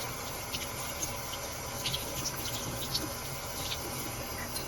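Water runs from a tap over a fountain pen squeeze converter, a continuous soft gush with scattered light splashes and dripping as the converter is squeezed and rinsed, no voices.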